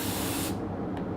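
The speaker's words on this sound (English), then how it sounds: "All right, so we'll go ahead and spray it down." Spray gun atomizing wood stain in a test pass, a steady loud hiss for about half a second that cuts off abruptly, followed by quiet room tone with a faint brief puff.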